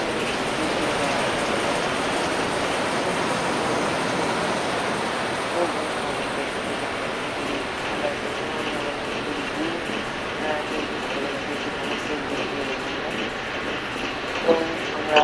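Banalata Express train running from Rajshahi to Abdulpur in the Bangladesh train simulator game BTZS on PC, a steady continuous rumble and rattle of wagons throughout, with a voice speaking over it.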